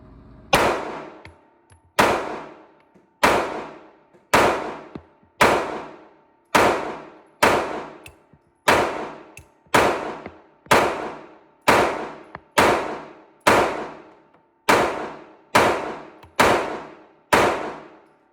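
Glock pistol fired at an outdoor range, about fifteen sharp, loud shots with metallic ringing target hits, spaced evenly at roughly one-second intervals with no talking.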